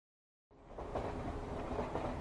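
A steady rumbling rush of a moving train rises abruptly after a brief silence and continues with a faint rhythmic rattle, fairly quiet and distant.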